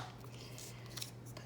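Scissors snip through a 12x12 paper sheet for a fall mini album, a few quiet crisp cuts over a low background hum, close and faint.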